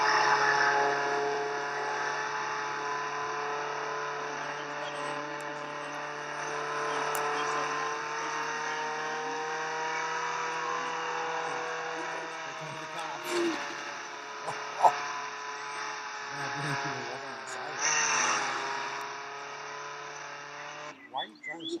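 Video game car engine droning steadily with shifting revs, moderately loud and continuous, with a few brief bumps and chirps near the end; no one speaks over it.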